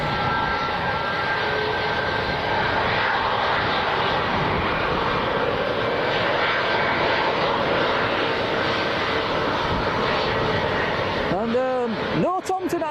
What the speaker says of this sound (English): opening the stream with a Ryanair 737. This is a Max 8